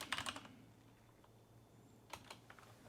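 Soft clicking keystrokes on a computer keyboard while entering a username and password during a desktop Linux login, in quick bursts separated by a pause, faint and close in a quiet room.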